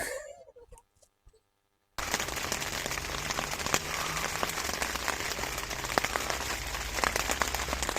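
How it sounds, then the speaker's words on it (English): Rain begins falling at a riverside campsite near the River Wye: after a couple of seconds of near-quiet with a few faint knocks, a dense, even patter of drops suddenly fills the scene and keeps on steadily. "It's just started raining."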